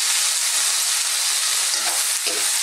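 Carrots and bok choy stir-frying in a pan for Lucban-style pancit habhab, a steady bright sizzle with stirring scrapes that sharpen near the end, close and continuous with no talking.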